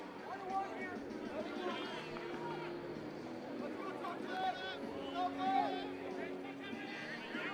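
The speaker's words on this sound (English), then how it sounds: "Great crowd here tonight already." A crowd at a night Premier Lacrosse League game between the Maryland Whipsnakes and Denver Outlaws fills the air with steady chatter and murmur, occasional louder calls rising over the babble, with nearby voices mixed in.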